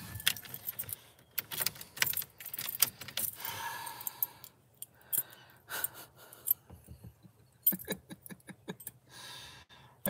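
A bunch of keys jangles repeatedly in short, sharp metallic bursts, close and fairly loud, with brief pauses between shakes and no talking.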